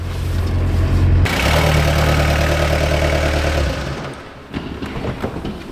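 A diesel Audi engine starts up after a long standstill: a loud low rumble, then a sharp shift into a rough running roar that fades after a few seconds, followed by faint clatter.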